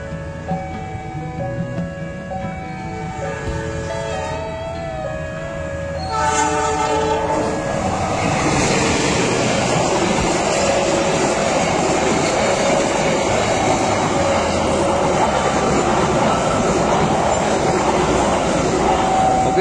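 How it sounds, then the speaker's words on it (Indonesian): Papandayan passenger train bound for Garut approaching from the west, its horn sounding in long tones before the loud rumble and clatter of the cars passing close by and continuing steadily. "dari arah barat lagi ada kereta api Papandayan dengan tujuan akhir stasiun Garut."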